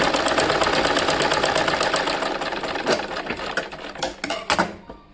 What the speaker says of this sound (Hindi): इसको चारों तरफ से सिल दिया मैंने